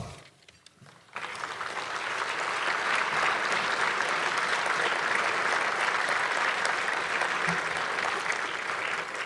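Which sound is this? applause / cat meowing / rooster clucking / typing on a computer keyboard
applause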